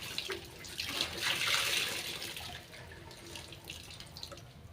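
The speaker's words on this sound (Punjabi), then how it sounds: "ਹੁਣ ਆਪਾਂ ਇਹਨੂੰ ਪਾਣੀ ਪਾ ਪਾਵਾਂਗੇ" Water poured onto cotton clothes being washed, a soft splashing rush that swells early and then settles into a quiet trickle, heard alone.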